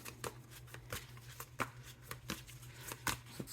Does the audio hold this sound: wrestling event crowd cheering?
no